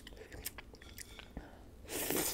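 Pineapple ice cream cone eaten close to the mic: soft wet chewing and a few crisp bites of cone, ending in a louder crunching burst.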